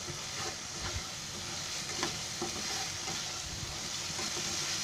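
Palak paneer masala roasting in a pan over high gas, a dense continuous sizzle broken by frequent spatula taps and scrapes, close and steady throughout.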